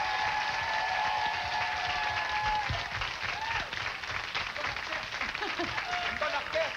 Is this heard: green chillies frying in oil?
no